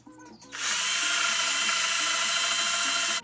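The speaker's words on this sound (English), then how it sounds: "where I put my marks, I'm going to drill a countersink hole" A power drill whirs up suddenly after a brief lower hum and spins at a steady, loud high speed boring a countersink hole in a bed frame before cutting off.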